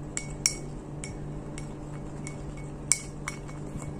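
Face pack paste being stirred in a bowl, the spoon giving sharp clinks and taps against the rim at irregular intervals over a quiet background.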